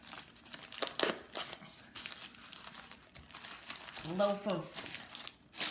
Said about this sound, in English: So then I crumple it and I'm putting it on like it's the shoulder area.